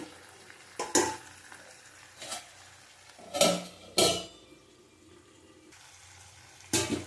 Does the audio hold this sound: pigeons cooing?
no